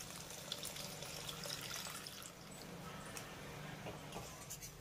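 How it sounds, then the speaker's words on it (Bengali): Water is poured from a cup into spices already cooked down in a pan for a potato curry, giving a steady close pour and trickle that runs without a break throughout. "আর এবার আমি এই কষিয়ে নেওয়া মশলার ভিতরে দিয়ে দেবো এক কাপের মতো জল"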